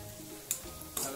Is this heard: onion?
yes